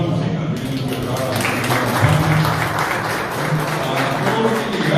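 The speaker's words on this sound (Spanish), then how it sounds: "ahora va a un aplauso para los hijas" Steady, dense audience applause at a book presentation during a Guarani language month event, with many hands clapping continuously and a faint murmur of voices underneath.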